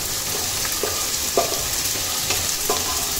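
Capsicum and beans fry in a pan for fried rice, a steady sizzle broken by scattered light clinks and scrapes of stirring, close and fairly loud, with no talk.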